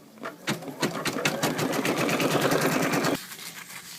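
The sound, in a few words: embroidery sewing machine sewing a placement stitch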